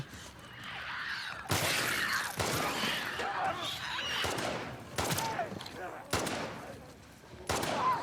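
Pistol shots in The Last of Us Part II, fighting infected in a school on Grounded difficulty: several sharp, loud reports spaced irregularly over a busy game mix with shattering and creature noises.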